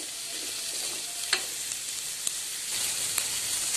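Onions frying in a pan for a Tamil fish curry, with garlic and dried red chillies added, giving a steady close sizzle and crackle with a few sharp pops and no one talking.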